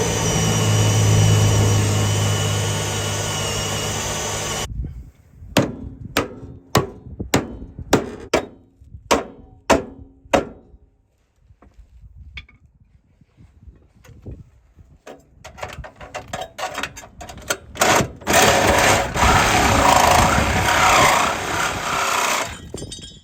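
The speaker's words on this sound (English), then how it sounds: "I gotta drill those out in order to get this off" A drill bores out pinch welds on a Jeep Cherokee frame. A loud steady whine at the start gives way to a series of sharp, close metallic knocks and bangs, then renewed grinding and drilling, with no speech.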